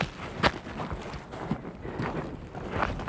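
Wind blows outdoors by the Santa Barbara sea caves as a steady rush buffeting the microphone, with scattered thumps and scuffs close by.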